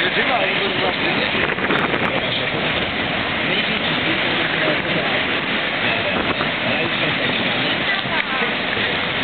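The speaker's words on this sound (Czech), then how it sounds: "To je vichr, co?" Strong, gusty wind outdoors in Prague roars loudly and steadily across the microphone as a continuous broadband rush, with voices faintly present beneath it.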